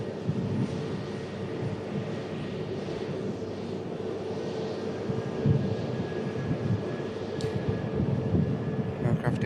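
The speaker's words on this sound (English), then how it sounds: "Aircraft departing is going to be this British Airways shuttle service back down to the capital." A British Airways shuttle jet departs Manchester Airport with a sustained far-off engine roar rising slightly toward the end, under a voice.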